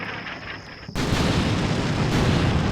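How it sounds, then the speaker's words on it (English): Precision artillery strike in a combat video game, a sudden heavy blast cutting in after a quieter moment, followed by a loud, sustained roar of rumbling debris and noise. "Precision artillery."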